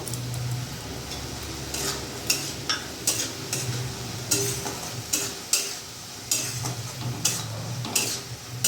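Chopped tomato stirred into a spicy fish curry with pointed gourd, a soft steady sizzle under repeated sharp spoon taps and scrapes against the pan at uneven intervals, close by with no talking.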